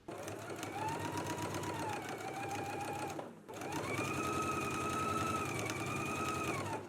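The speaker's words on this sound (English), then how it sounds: "Let's go ahead and stitch it in place at a 3/8 of an inch seam allowance" Domestic sewing machine stitching a partial placket seam at a 3/8 inch seam allowance, running steadily for about three seconds, pausing briefly, then running again with a whirring, rapid needle rhythm, close and loud.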